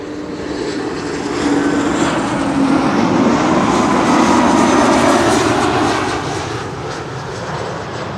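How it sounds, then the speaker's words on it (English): KLM Embraer 190 jet arriving at Schiphol, a loud, continuous engine roar that swells and peaks as the aircraft passes nearby, then slowly fades, with no talking. "Embraer 190 up next, KLM flight 964 arriving from Teesside or Darlington."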